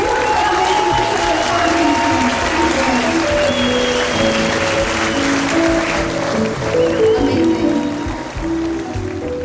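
Applause for two birthday girls at a celebration, steady dense clapping from a crowd with background music tones running underneath throughout.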